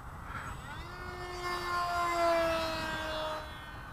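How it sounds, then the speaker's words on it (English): A radio-controlled BF-109 model fighter plane, a bank-and-yank type with no rudder, flies past on a short second flight from the same battery, its electric motor whining steadily and rising then falling in pitch as it passes, loud and unaccompanied. "This is the second flight on the same battery, so it'll be a short one"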